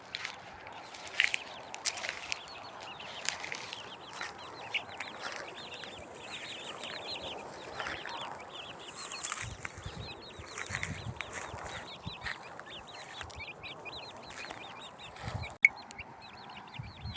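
Chicks peep in rapid, high, repeated bursts while chickens cluck softly nearby as they forage for insects, with scattered scratching footsteps and an occasional sharp knock, all fairly quiet.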